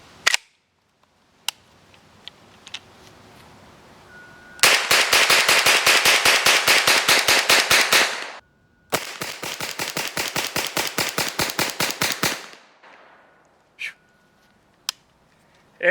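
An HK UMP clone submachine gun, an Omega Gideon Shadow caliber-swap build, fires two long, rapid, loud full-auto bursts outdoors, each with dozens of sharp evenly spaced shots, with a few single shots before and after.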